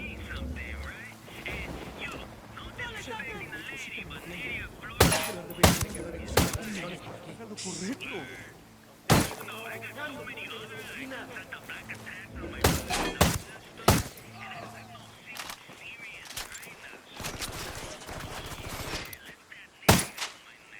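Gunfire in the Ghost Recon Wildlands video game: several sharp, loud shots in scattered bursts, some single and some in quick pairs, over low game ambience with voices talking in between.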